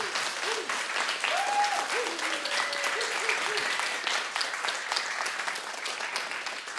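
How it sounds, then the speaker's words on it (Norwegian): Studio audience applauding steadily for the band on a Norwegian TV sing-along show, a sustained wash of clapping with faint voices and brief tonal traces underneath. "Jeg synes nesten de må få en egen applaus, for de spiller så fint."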